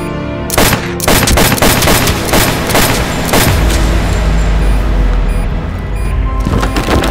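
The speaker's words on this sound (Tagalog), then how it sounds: "humugot ng baril itong si Andres at pinagbabaril si Muñoz hanggang sa ito ay tumumba na" Rapid bursts of gunfire, loud and close, crack repeatedly in quick volleys, like an automatic weapon emptied into someone, with a booming low rumble building toward the end during a radio drama.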